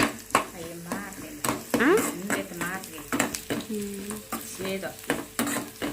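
Onions and curry leaves sizzle in hot oil for a tempering, a busy crackling fry with frequent spoon stirs and pan clinks, while voices talk over it.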